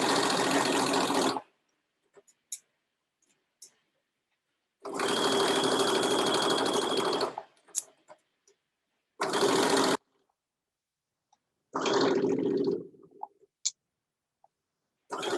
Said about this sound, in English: we'll stitch all the way around that curved edge of the pocket bag